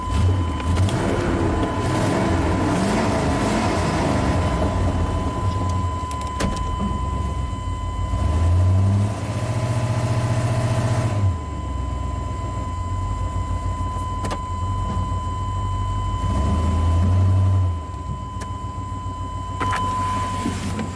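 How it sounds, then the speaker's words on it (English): A 1998 Chevy K2500 truck with a misfire idles roughly near the microphone, then its engine is revved twice, each rev swelling into a louder, deeper roar before dropping back to a steady idle. "Let's rev it up a little bit."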